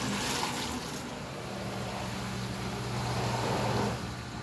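Water from a bucket is dumped into a Saniflo Access 2 macerator toilet, giving a steady rushing, gurgling wash with a low motor hum underneath that swells toward the end.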